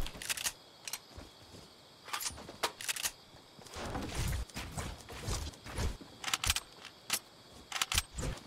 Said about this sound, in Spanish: A recargar nuestra mierda.